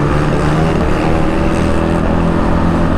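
Motorbike engine held at a steady loud drone through a wheelie, a continuous dense rumble with no breaks and no talk over it.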